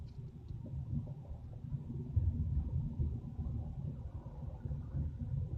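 A deep, steady low rumble of a Corvette C7 engine that swells slightly midway as the car passes close by, with no voices.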